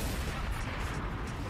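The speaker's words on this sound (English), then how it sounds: "I wanted to see that orbital cannon blow up all my cocaine" An orbital cannon blast in GTA V obliterates a stash of cocaine, a dense, loud rumbling explosion that fills the whole short moment without a break.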